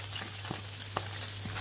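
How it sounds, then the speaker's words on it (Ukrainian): Onion sizzling in a pan still holding the fat from fried goose, over medium heat: a steady soft crackle and hiss, with a few small clicks or stirring knocks breaking through. "І тепер сюди, де смажилася гусочка, вогонь я вже зменшила на помірний,"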